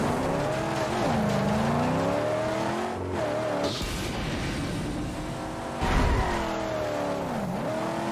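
A vehicle engine in the Mad Max video game drones and rises and falls in pitch as it accelerates and changes gear, with brief bursts of gravel and tire noise along the way.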